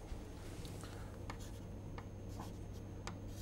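Lecturer writing on a board during a combustion lecture, faint scattered taps and short strokes of chalk or marker over a low steady room hum, with no talk.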